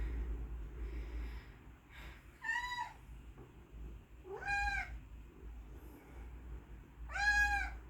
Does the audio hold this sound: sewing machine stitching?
no